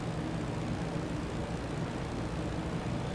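A WWI fighter plane engine in the flight simulator game Rise of Flight runs at full throttle, a dense, steady, unbroken roar with no talk.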